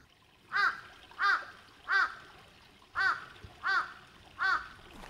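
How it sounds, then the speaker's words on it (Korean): Crows caw outdoors along a forest path, six evenly spaced harsh calls in a steady rhythm, moderately distant and clear against a quiet background. "까마귀들이 반겨주네요."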